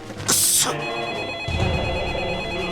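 A work mobile phone rings in the Death Note anime with a bright, buzzing burst that cuts in sharply and stops after about half a second, set over a steady background of score and ambience.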